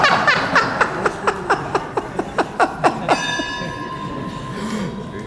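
A bell is struck in a quick, even series of about a dozen sharp rings, then settles into one sustained, shimmering tone that slowly fades, close and fairly loud.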